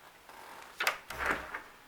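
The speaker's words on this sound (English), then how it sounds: "This is the basement door." An old house's basement door opens in a close, short sequence: a faint tap, a sharper knock, then a scraping swing with a low thud, with no talking.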